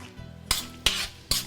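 Red onion stirred in a pan of oil with a utensil, three sharp scraping clinks against the pan over a faint quiet background, no sizzle evident.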